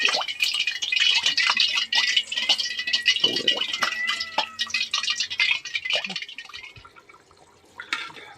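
Mutton pieces for karahi sizzle and crackle in heated oil, a steady, busy frying hiss with faint clinks that eases toward the end.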